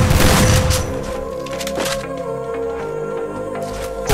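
Gunfire in the Free Fire mobile game during a headshot challenge: a loud burst of shots at the start, then scattered sharper cracks over a steady game soundtrack.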